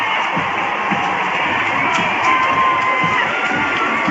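Crowd at the 2017 Congressional Baseball Game for Charity cheering after a run scores, a sustained roar of shouts and whoops from a large stadium audience, steady and loud throughout.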